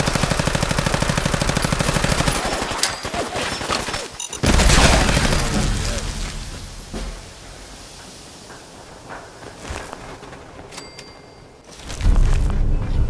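Rapid automatic gunfire in Fallout 4, loud and close, with a rattling machine-gun stream at first, then a heavy blast and scattered shots that fade before another loud burst.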